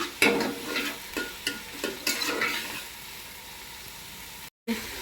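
Brinjal, tomato and onions fry in a pan, with a steady sizzle broken by several short stirring scrapes and clatters near the start, then a quieter sizzle that cuts out briefly near the end.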